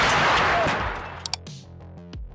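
An M777 ultralight towed howitzer fires once with a huge close blast that rolls into a long echoing rumble, followed by a few sharp metallic clanks as the report fades.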